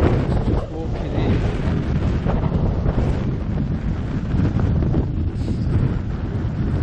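Strong wind buffets the microphone at an outdoor horse endurance ride venue in a park, a continuous loud roar and rumble throughout with brief faint voices in the background.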